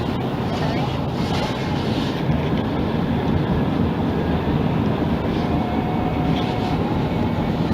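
Metro train car rolling through Shady Grove station, a continuous loud rumbling roar with a steady low drone and faint squeal, filling the whole span without pause.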